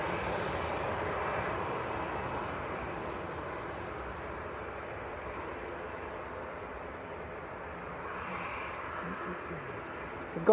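Aircraft at Leeds Bradford Airport, where a Jet2 Airbus A321neo is departing, gives a steady, moderately distant engine roar that swells slightly near the end, with a voice talking over it.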